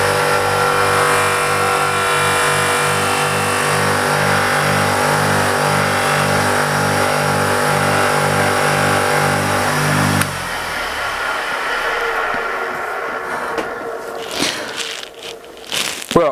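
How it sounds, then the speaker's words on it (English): A bench machine polisher runs steadily at high speed on an MGB roadster part for about ten seconds, then the motor cuts out and winds down, followed by scattered handling and knocking noises. "I've bought a machine polisher, you know, like a bench polisher"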